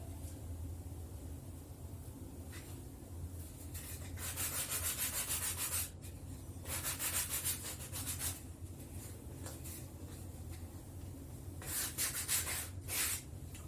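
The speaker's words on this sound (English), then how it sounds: "I'll keep my sandpaper and I'll go to the outsole." Sandpaper rubbed by hand against a children's slipper outsole, repeated scratchy sanding strokes in bursts of varying length, close and moderately loud with no talking.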